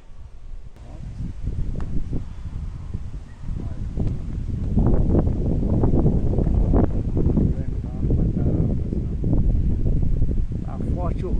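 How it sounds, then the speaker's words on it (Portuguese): Strong wind gusts buffet the microphone outdoors during a fishing trip, a steady loud rumble with rustling throughout the whole stretch, and voices can be heard talking over it. "Tá forte o vento"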